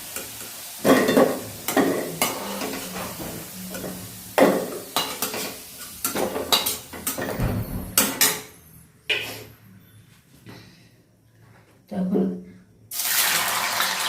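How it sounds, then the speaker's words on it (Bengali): Oil sizzles and crackles as paneer fries in a pan, broken by stirring and clattering, with a few quiet gaps and a brief burst of hiss near the end. "আলুটা ভাজা হয়ে গেছে তাহলে পনিরটাও ভেজে নেবো"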